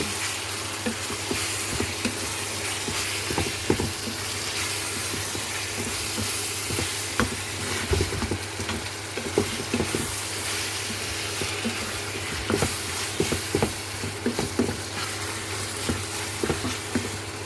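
Squid adobo with onion and tomato sizzles in a pan as it is stirred, a continuous close frying hiss broken by repeated utensil scrapes and taps, with a low steady hum beneath.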